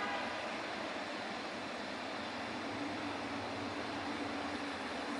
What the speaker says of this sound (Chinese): 然后不知道大家有没有听到这个天空发出呼呼的声音。